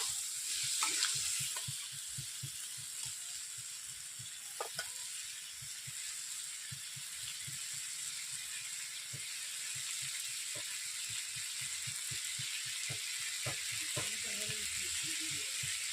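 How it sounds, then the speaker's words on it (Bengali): Papaya and potatoes fry in a wok, a soft continuous sizzle with scattered scraping and stirring clicks, fairly quiet and close, without voices. "পেঁপেটাকে আমি ভালোভাবে কষিয়ে নিচ্ছি পেঁপে আলুগুলোকে"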